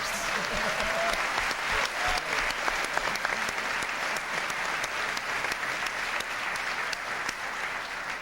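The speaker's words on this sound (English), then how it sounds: "Let's have a huge round of applause for all these generous sponsors" A pageant audience applauds sponsors in a long, steady round of clapping, dense and even, fairly distant and moderately loud, with no voices standing out.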